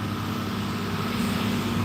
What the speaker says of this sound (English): That's the cotton truck again.